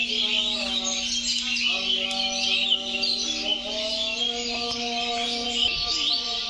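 Birds call in flocks around a home with chickens and pigeons at dusk, a steady chorus of chirps and tweets over a sustained tonal hum, with faint cooing mixed in throughout.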